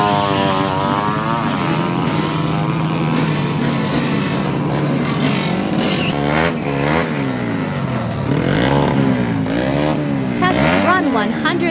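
A 130cc racing motorcycle on a test run revs hard and close by, its loud engine note climbing and dropping in repeated surges, with a voice talking over it.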